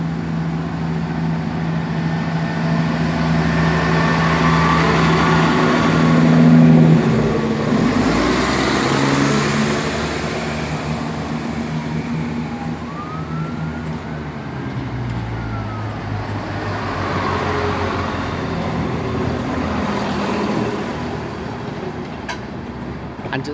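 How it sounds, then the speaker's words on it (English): A Chiltern diesel train formed of class 168 units 168327 and 168218 pulls out of Oxford station on a service to London Marylebone, its engines rumbling steadily, swelling mid-way and then easing as it draws away. "Departing now is a 1311 service to London Marylebone"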